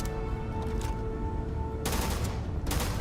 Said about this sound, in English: He's using the really heavy mag gun.